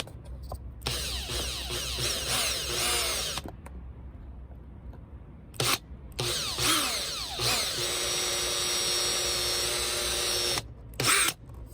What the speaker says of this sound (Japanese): マキタのドリル、気分が上がります。